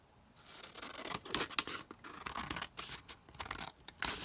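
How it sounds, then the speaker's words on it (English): Scissors cutting along the edge of a plastic cereal box liner, close and quiet, with a run of crisp snips and crinkly rustling in uneven bursts. "cut this down along the edge"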